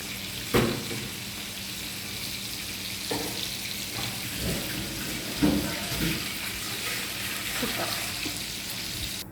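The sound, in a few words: chicken frying in a pan for biryani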